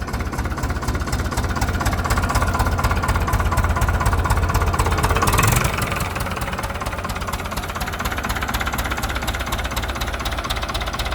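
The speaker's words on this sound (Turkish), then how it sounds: "güzel bir sesi var traktörün" A Massey Ferguson tractor engine idles continuously, a steady rumbling with a rhythmic knocking throb, briefly louder around the middle before settling back to an even drone.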